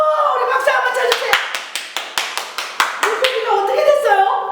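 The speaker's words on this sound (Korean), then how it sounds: "우리 박수 한번 쳐주세요" Children's group clapping during a church Sunday school service: a brief rhythmic run of about a dozen sharp claps, close and loud, with talking voices before and after.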